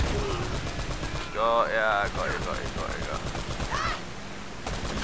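Gunfire in the game Uncharted: Drake's Fortune, repeated rapid shots crackling through the scene while people talk over it.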